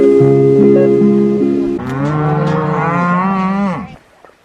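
Cattle on a long-running ranch moo in loud, close, drawn-out calls, one overlapping another before fading near the end, with no talk.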